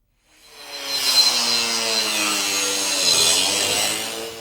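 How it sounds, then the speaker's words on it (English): An angle grinder with a thin cutting wheel slicing through 1-inch square steel tubing, with a harsh, steady, high-pitched grinding whine that starts abruptly and holds for several seconds, close by and alone. "I'm going to take and cut a piece of 1-inch square tubing"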